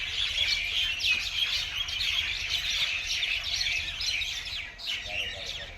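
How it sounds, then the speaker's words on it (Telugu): Birds chirping in two neem trees beside a village panchayat office in the morning, a dense, continuous chorus of high tweets and calls at moderate distance with no voices. "పక్షుల సౌండ్ చాలా బాగా అనిపించాయి."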